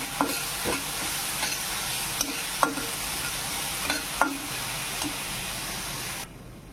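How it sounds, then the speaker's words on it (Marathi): Ginger, chili and garlic paste sautés with cumin and curry leaves in hot oil for a potato and green pea samosa filling, a steady close sizzle punctuated by several sharp spatula taps, ending abruptly. "आलं, मिरची, लसणाची पेस्ट टाकायची, जिरी टाकून घ्यायची. हे चांगलं परतून घ्यायचं."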